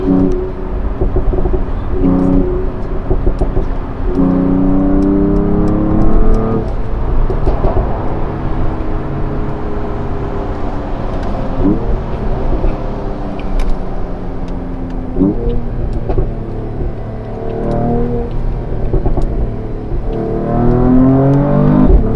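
A 2021 Mercedes-AMG E53 convertible's engine revs repeatedly, with rising and falling engine tones in several surges, loud and close throughout with no talking.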